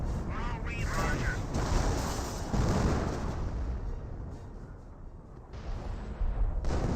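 Heavy artillery fire rumbles through a Company of Heroes 1 battle: dense, loud, sustained booming explosions fill the scene, with voices heard faintly underneath.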